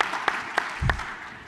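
An audience at a talk on data interpretation gives a short round of light, scattered clapping, a few distinct claps over a faint background, with a brief low thump.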